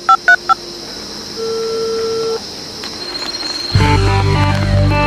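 Three short telephone keypad dialing beeps, then a steady ringback-style tone and a busy beeping pattern, ending in a louder burst of mixed noise.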